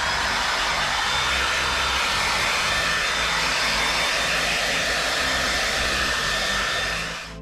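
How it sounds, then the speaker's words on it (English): A hair dryer blows steadily up close on freshly spray-painted Lexan body, with a loud, even whoosh and a faint whine, running nonstop before cutting off at the end. "we're gonna go ahead and hit it with a hairdryer one more time."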